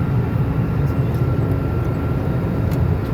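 Steady, loud low roar of an airplane cabin during a windy, shaky flight, a constant engine and air rumble filling the whole stretch with no voices.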